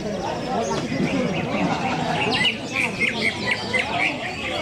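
Songbirds at a bird-singing contest at Barata Enterprise, several bright chirps and trilling phrases rising over a busy crowd of talking people, continuous and fairly near.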